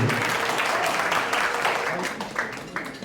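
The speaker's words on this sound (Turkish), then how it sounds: "Alkışlarla efendim." Applause at a wedding venue as a newlywed couple is invited onto the dance floor, brief dense clapping from guests that tapers slightly over a few seconds.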